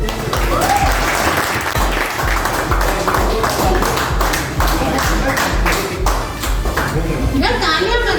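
An audience at an office Holi and success party applauds steadily and loudly throughout, with dense clapping and crowd noise and voices mixed in.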